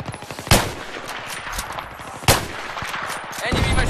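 Video game gunfire rattles in rapid bursts, with two sharp, louder reports standing out. The sound is loud and close and stays continuous throughout.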